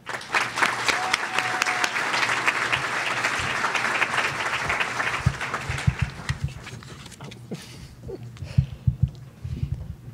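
An audience at a conference opening session applauds in a sustained burst of clapping that fades after several seconds, leaving scattered claps and low room noise.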